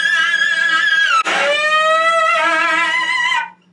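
Cello played ponticello with a light harmonic touch to give an edgy, distorted, glassy tone, a sustained bowed note that jumps partway in and then holds before cutting off, close and alone.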